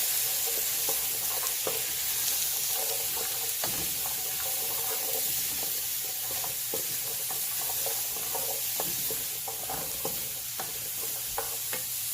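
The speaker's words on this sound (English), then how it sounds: "your hot pepper, which is optional. Give it a stir." Spoon stirring a pot of Trinidad corn soup with sweet potato and optional hot pepper, soft scraping and sloshing strokes repeating at an irregular pace over a steady low simmer.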